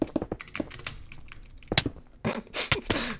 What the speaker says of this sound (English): I need to get faster at clicking my keys.